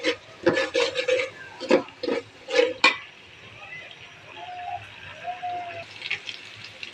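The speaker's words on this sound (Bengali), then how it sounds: "একটু ভেজে নিব আদা রসুনটা, যাতে কাঁচা গন্ধ না আসে।" A spoon clinks and scrapes sharply against a pan as ginger-garlic paste is stirred and fried, several quick knocks close by, then a quieter stretch of soft low sizzling.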